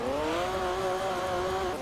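Lister Storm V12 race car in Gran Turismo 2 on Grand Valley, its engine holding a steady, loud, buzzing note that climbs slightly, with a faint hint of tire squeal and no clear slowing.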